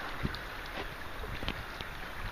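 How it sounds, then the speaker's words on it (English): Steady buffeting wind rumbles across the microphone outdoors on old manor grounds in the UK while metal detecting, a constant noisy roar with small gusty thumps. "It's a bit windy here, so if you can hear a lot of crosswind"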